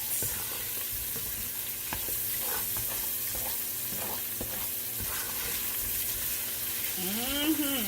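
Steady loud sizzling and frying in a pot for keto cabbage soup, with occasional stirring scrapes, continuous throughout, ending with a brief rising whine.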